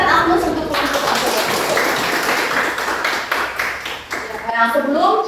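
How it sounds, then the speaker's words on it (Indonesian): Classroom applause for a student group: dense, steady clapping from many hands fills the room for about five seconds, with a teacher's voice and children's voices rising over it near the end. "boleh berikan aplaus untuk kelompok 1"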